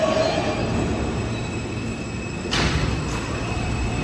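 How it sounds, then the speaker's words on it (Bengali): A New York subway train pulls into a station, a constant loud rumble of wheels and carriage noise with a sharp metallic squeal that swells about midway as it arrives. "এই যে ট্রেন এসে গেছে আমার"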